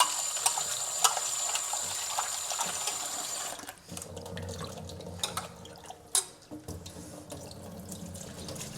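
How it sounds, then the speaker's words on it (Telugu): Half a kilogram of mutton is washed in water, with a running tap filling a vessel, then sloshing and splashing as the meat is rinsed by hand, close and moderately loud. "ఇంకా మంచిగా ఫ్రెష్గా వాష్ చేద్దాం దీన్ని."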